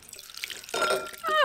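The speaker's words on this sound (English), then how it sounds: "And now we're gonna take hot water" Hot water pours from a tap into a bowl over a Mermaze Mermaidz Riviera mermaid doll, a short running splash that rises in the last half second.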